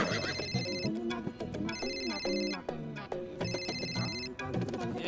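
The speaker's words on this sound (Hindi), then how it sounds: "कॉल वेटिंग की रिंग भी जोर से सुनाई देती है" A phone's call-waiting ringtone plays loudly in a repeating melodic pattern of bright electronic tones, with bursts of music-like chimes recurring throughout.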